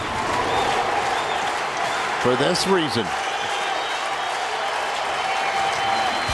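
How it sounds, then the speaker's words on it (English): Stadium crowd at a St. Louis Cardinals walk-off win over the Cubs applauding and cheering in a steady wash of distant clapping, with a commentator talking over it. "The crowd reaction."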